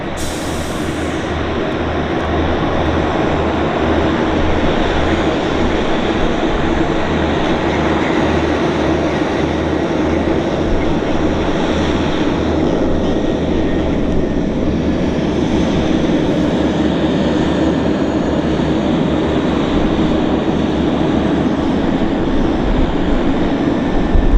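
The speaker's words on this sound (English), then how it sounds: "We got a Pacific Coastal Beach 1900 taxiing out" A Pacific Coastal Beechcraft 1900 turboprop taxis at Vancouver airport, a steady, loud propeller and engine drone that holds throughout.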